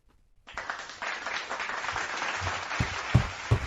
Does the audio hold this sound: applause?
yes